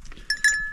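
A goat out on the ice gives a short, bright bleat, close and fairly loud, over a quiet background.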